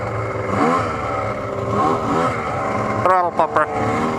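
A snowmobile engine on a sled ride along Bear Narrows Road toward Eagle Lake drones steadily and close, then gives a few sharp throttle blips near the end.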